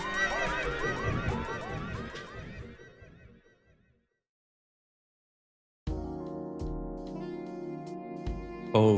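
Horse whinnies and snickers from the video game Horse Magnifier, a loud, layered neighing burst that fades out, followed by a silent gap and then more horse sounds with a musical tone.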